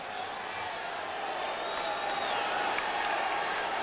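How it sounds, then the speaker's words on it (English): Arena football crowd at a 1992 Tampa Bay Storm at Orlando Predators semifinal buzzing with a steady, distant roar of voices and scattered whoops, under broadcast commentary. "This crowd buzzing."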